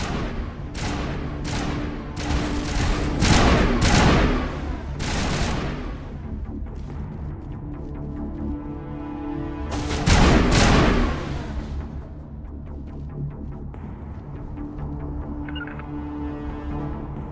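Rapid gunfire from the video game Mass Effect, loud bursts of shots and booms clustered early and again around the middle, with steady combat background between them.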